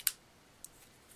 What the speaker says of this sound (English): use my scissors and cut it to a point.